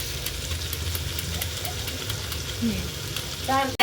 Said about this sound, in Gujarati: હવે આપણે એકદમ હલાવી લેવાનું છે